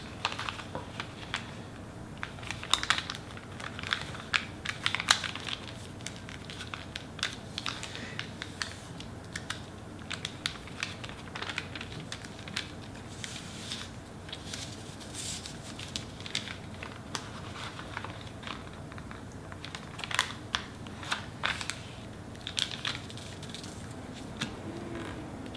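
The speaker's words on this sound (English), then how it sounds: "Now, I'm going to make two new book folds again." Paper being creased into origami book folds for a dolphin model, heard as close, soft crinkles and sharp taps, steady and continuous with small bursts.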